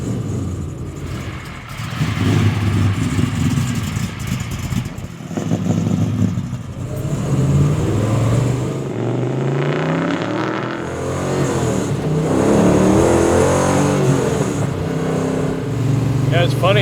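A rare 1960s muscle car accelerates on a drive, its engine revving and rising in pitch through the gears from inside the cabin, loud and continuous with people talking over it.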